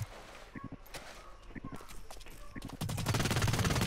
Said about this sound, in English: He has a freaking sniper